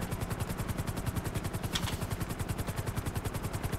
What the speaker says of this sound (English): That's okay, because we've got a fast helicopter.